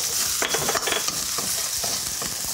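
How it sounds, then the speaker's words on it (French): Garlic stir-fries in a hot wok with a loud, steady sizzle and frying hiss, broken by scraping stirs and clinks of the utensil against the pan, close up and without talk. "Et si on laissait faire un tout petit peu Yannick pour remuer dans le wok"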